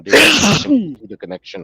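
A single loud, close human sneeze bursts out at the start, followed by people talking in a casual conversation.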